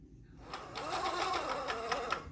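A 1972 Fisher Price Family Fun Airport toy airplane mechanism whirs steadily with a rapid mechanical clicking rhythm, quiet and close, running for a couple of seconds.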